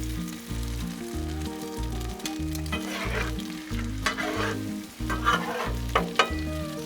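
A mixture sizzles steadily in leftover bacon grease on a Blackstone griddle, a continuous close frying hiss with occasional scraping and stirring, while music plays underneath.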